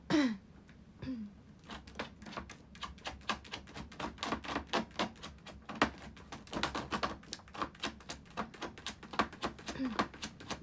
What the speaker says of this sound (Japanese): あ、咳払いしてるから。